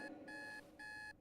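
An electronic alarm in the game The Raven beeps in two long, steady high-pitched tones separated by a short gap, fairly faint over a quiet background.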